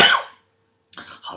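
A single short cough from a crying person, close and fairly loud, followed by silence and then a few soft breathy sounds.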